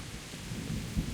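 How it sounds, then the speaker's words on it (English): Steady rain falls in the medieval open-world game Kingdom Come: Deliverance, a soft continuous wash heard from a high vantage point, with a brief low rumble swelling near the end. "Granted, we are high up and it's raining."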